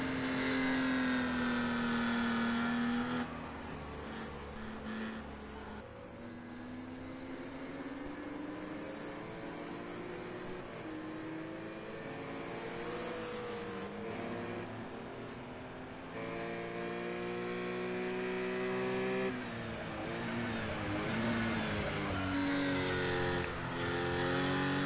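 A Porsche GT3-class race car engine in a multi-class endurance racing video game, revving loudly and steadily with rising and falling gear pitch across the whole stretch, no talking over it.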